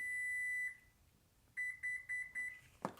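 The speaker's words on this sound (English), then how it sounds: "Hold it down while it beeps, and then it'll beep 4 times while you're continuing to hold it down" A long electronic beep sounds from a power liftgate control button on a 2021-2023 Toyota Highlander, then after a pause four short identical beeps follow in a steady rhythm, close and clear.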